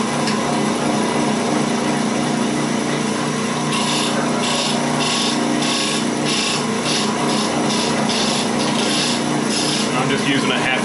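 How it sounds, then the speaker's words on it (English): A half-inch skew chisel held flat as a scraper rasps against spinning wood on a lathe, a steady, close, dry scraping hiss with a run of rhythmic pulsing strokes through the middle. "I'm just using a 1/2 inch skew as a scraper."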